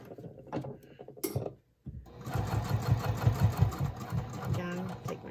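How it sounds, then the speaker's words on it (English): A sewing machine stitches around the edge of a fabric purse flap with a 1/8 inch seam allowance. After a brief stop, it runs in a steady, rhythmic whir of close, fast stitches. "we're going to stitch all around the edge using 1/8 inch seam allowance"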